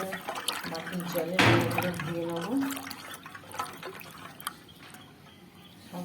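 Young amra (hog plum) fruits are rinsed in water by hand, with splashing and dripping from a tap or bowl, a brief louder splash near the start, while a person talks over it.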